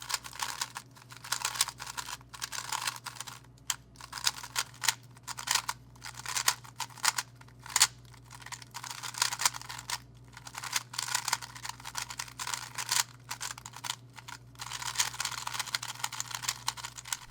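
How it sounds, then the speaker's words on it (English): A YueXiao EDM speed cube being turned rapidly, giving loud, clacky plastic clicks in fast irregular bursts, close up with no talk. "It has a loud, clacky sound that reminds me a little bit of the Maru CX3 from years ago."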